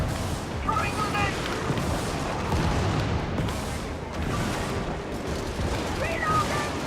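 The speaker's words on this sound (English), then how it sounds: "Throwing grenade!" Video game combat as an exosuit fights: a grenade blast and bursts of heavy gunfire and cannon booms rumble continuously, loud and dense, with faint voice chatter mixed in.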